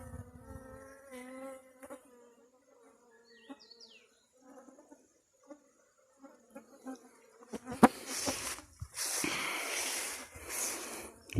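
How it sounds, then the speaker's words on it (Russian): Bees working blossoms in a vegetable garden, a faint buzz drifting in and out among quiet gaps, with rustling and louder handling noise toward the end. "пчелки вон собирают с него нектар"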